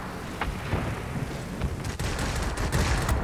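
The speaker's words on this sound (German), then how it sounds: "Sie werden von der Flugabwehr beschossen." Anti-aircraft fire in the World of Warplanes video game comes as a rapid rattle of muffled bursts over a constant engine drone, growing busier in the second half.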